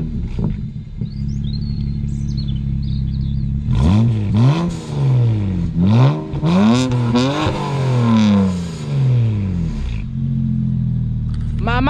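BMW 335d diesel engine fitted with dump pipes idles, then is revved hard several times in quick succession with a loud, rasping rise and fall before settling back to a steady idle, heard close up.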